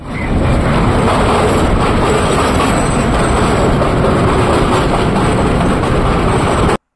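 A train on the Vizag to Araku line rumbles steadily along the rails, loud and close, with a continuous roar and wheel noise that holds until it cuts off abruptly.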